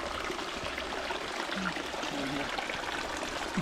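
A mountain stream on the trek to Nethravathi peak flows in a steady, close rushing wash of water, constant and fairly quiet with no voices over it.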